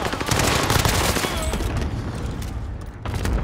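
Rapid SMG fire in Call of Duty: Modern Warfare, loud dense automatic bursts filling the scene almost continuously with a short lull near the end, close and heavy.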